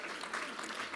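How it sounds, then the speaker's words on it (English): Audience at a panel discussion event clapping for the panelists: brief, steady burst of many hands applauding together, moderately distant and sustained throughout. "that counts as a round of applause for our panelists."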